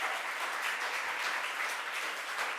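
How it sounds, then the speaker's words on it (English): Applause from an audience at a governor's press announcement on cost of living, an even, moderately distant patter of many hands clapping with no break. "Let's give her another round of applause."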